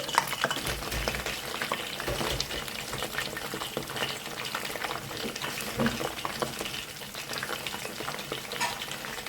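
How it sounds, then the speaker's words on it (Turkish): Steady, dense sizzling of eggplant frying in hot oil, close and continuous, with occasional clinks and stirring noises. "Şimdi patlıcanlarımı şöyle atıyorum. Kızartacağım."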